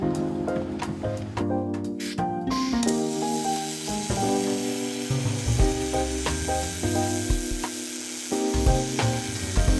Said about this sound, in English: Just doing some plug welds here on the top end for our new